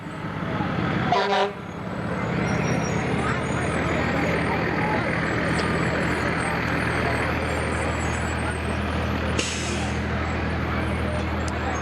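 Fire truck horn from a green-painted volunteer fire company ladder truck in a St. Patrick's Day parade in Norristown, a short blast near the start over steady crowd and engine rumble, with a second brief toot later.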